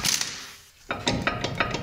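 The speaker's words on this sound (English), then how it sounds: "I'm just gonna seat them with the gun and tighten them after" An impact gun seats brake caliper bolts on a Dodge Ram during a front brake job, with a quiet pause and then a run of sharp, evenly spaced metallic bursts, close and fairly loud.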